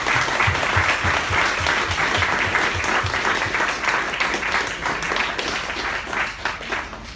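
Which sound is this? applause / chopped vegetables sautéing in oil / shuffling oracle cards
applause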